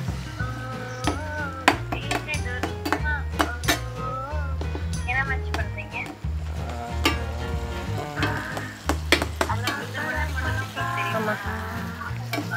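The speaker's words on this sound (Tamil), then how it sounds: "இந்த வெங்காயத்தையும் தக்காளியையும் வதக்க விட்டுட்டு" Onions and tomatoes sauté in a pan with a continuous soft sizzle and occasional utensil clinks, partly masked by loud tonal background music throughout.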